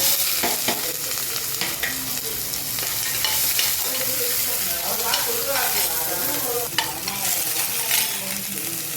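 Mustard seeds, dal, asafoetida, dried chilies and onion sizzle and crackle in hot oil, a steady broadband frying hiss broken by sharp pops and spoon scrapes throughout, close and fairly loud with no talking.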